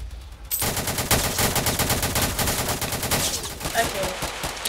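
Guns on a battle cruiser in Roblox Harbour Havoc fire in rapid, loud bursts. The booming volleys follow one another without a break, and a player talks faintly underneath.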